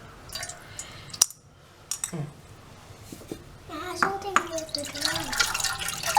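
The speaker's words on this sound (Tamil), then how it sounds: "தேவையான அளவு தண்ணி ஊற்றிட்டு" Water is poured into a cooking pot of tamarind curry with elephant foot yam, a steady splashing rush that builds in the second half, with some voices and clatter earlier on.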